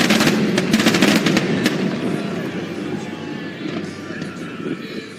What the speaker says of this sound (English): Major ports frequently stage fireworks over the water